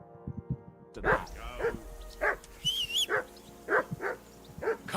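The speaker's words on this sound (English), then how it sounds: "I assume you can hear that damn dog of yours barking." A dog in Kingdom Come: Deliverance 2 barks again and again, close and loud, in uneven bursts after a brief quiet start, with speech mixed in.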